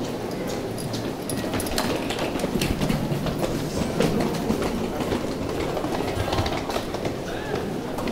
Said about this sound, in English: This is the subway line.